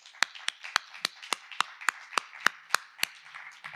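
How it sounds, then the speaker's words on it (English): Sharp, evenly spaced single claps, about one every quarter second, sounding like a few people applauding speakers at an academic humanities conference in a quiet room. "Please, a round of applause for our speakers."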